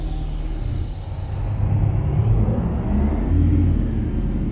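8V92 truck engine in American Truck Simulator, a deep rumbling idle that rises into heavier revving partway through, steady and close, no talking.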